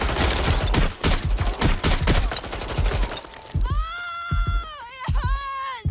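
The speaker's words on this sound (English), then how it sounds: "I'm taking fire here." Rapid bursts of video game gunfire in Watch Dogs Legion crackle loud and close for several seconds, then give way to a voice sounding over a few remaining shots.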